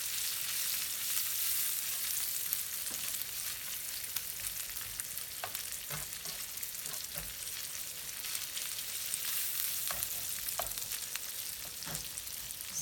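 Longaniza sausage frying in a pan, a dense, continuous hiss and crackle of hot fat throughout, with a few soft scrapes and pops mixed in.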